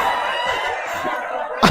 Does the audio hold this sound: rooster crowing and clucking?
yes